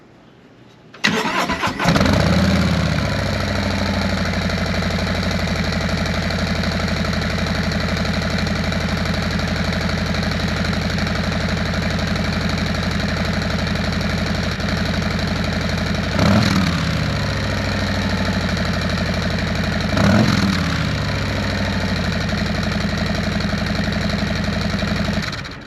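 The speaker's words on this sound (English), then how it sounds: "that was the cold startup on a stock 2025 Harley Road Glide with the 117" Cold startup of a 2025 Harley-Davidson Road Glide with the 117 engine and stock pipes: silence, a sudden crank and catch near the start, then a loud, steady idle with two brief revs swelling up later.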